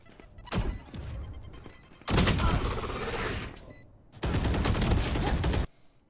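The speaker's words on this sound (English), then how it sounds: "That grenade, I know most people who play Raze probably just know this already" Raze's grenade going off in a Valorant match, a burst of loud blasts broken into clusters with short gaps, dense and close, with gunfire-like crackle throughout.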